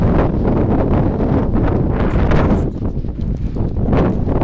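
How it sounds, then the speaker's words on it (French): Steady wind buffets the microphone throughout, a constant low roar with gusting swells and no voices. "Il y a un petit peu de vent."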